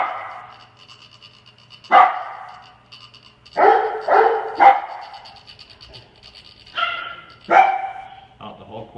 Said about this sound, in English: I'm just gonna wait till he stops barking.